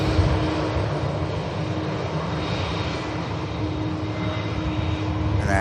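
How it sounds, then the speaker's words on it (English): EasyJet airliner touching down on landing at Manchester Airport, a steady, loud broadband jet engine roar that holds throughout without pause. "And EasyJet just touching back. Touching down"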